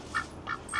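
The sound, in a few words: duck quacking outside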